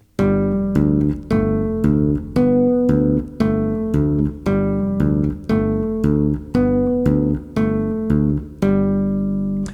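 Tapped bass guitar plays a melody and bass line together, with a steady run of bright, evenly spaced notes held about two beats each, loud and alone with no talk.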